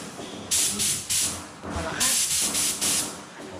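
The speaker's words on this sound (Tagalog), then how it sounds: "Spray gun." A paint spray gun hisses in loud, steady bursts of about half a second each, with short gaps between them, close by while coating a terrace railing.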